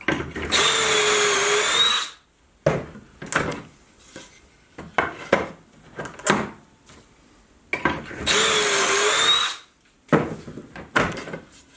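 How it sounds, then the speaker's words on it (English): Power drill boring a pocket hole into a wooden piece clamped in a pocket hole jig, two loud sustained bursts of whirring drilling separated by clattering handling and clamping noises, close up with no talking. "placing it in the pocket hole jig, clamping it down, and drilling a hole"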